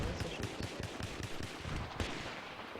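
Rapid bursts of gunfire from a Battlefield 3 multiplayer match, a dense run of sharp repeated shots across the whole stretch, loud and close, with no talk over it.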